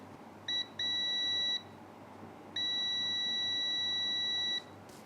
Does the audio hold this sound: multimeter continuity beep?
yes